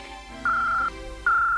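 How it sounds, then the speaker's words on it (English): A cartoon secret gadget phone rings in an Inspector Gadget episode with two bright, steady electronic beeps, each about half a second long, separated by a short pause and heard clearly on their own. "that's the secret gadget phone"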